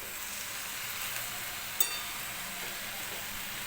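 Tandali leaf greens frying in a garlic tempering give off a steady, fairly quiet sizzle, with one brief clink of a utensil midway.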